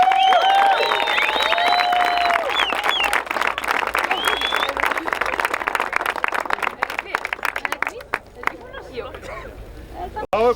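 An audience applauds the women's category winners at a race event, dense clapping and cheering with whistles for several seconds before thinning into scattered claps.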